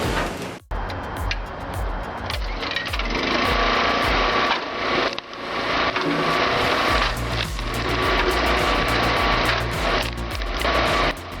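An 80RM wood chipper driven by a 5.5 hp Honda GX160 engine runs steadily, a loud continuous mechanical drone with grinding and rattling, briefly dipping near the start and mid-way before resuming at full strength.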